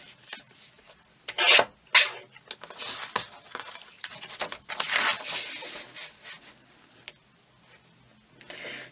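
Craft material for mini lunch bag pockets is cut down by hand, giving close, uneven rasping and rubbing strokes with a few louder bursts and short pauses.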